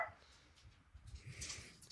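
A dog gives faint, distant barks and whimpers indoors, a few short scattered yips over a quiet background.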